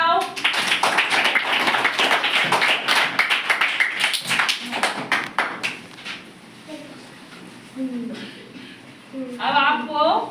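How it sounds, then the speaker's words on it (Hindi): Schoolchildren in a classroom clap their hands together in a burst of rapid clapping that thins out after about six seconds, followed by brief chatter and voices. "ताली बजाओ"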